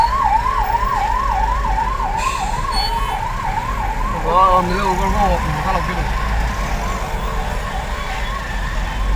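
An ambulance siren wails in a fast repeating up-and-down pattern over traffic rumble, briefly overlapping a second siren tone, while someone talks nearby.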